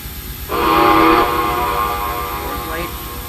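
A GS4 steam locomotive whistle on a model train sounds one clear, sustained blast of about a second, followed by a fainter, lingering tone.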